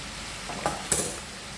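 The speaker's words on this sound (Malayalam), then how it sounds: "ഇത് നമുക്കൊന്ന് സോട്ട് ചെയ്തെടുക്കാം." Green chillies and frying onions sauté in a pan, a soft sizzle beneath two quick, close scrapes of a utensil against the pan, with no talking.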